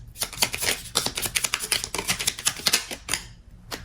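Tarot cards being shuffled and drawn, a dense run of crisp riffling snaps and papery flicks close up, steady and busy with no talking.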